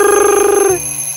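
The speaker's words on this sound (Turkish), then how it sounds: "alarmının sesiydi." An alarm clock rings in a fast, loud, close metallic trill for under a second, then cuts off abruptly into quiet.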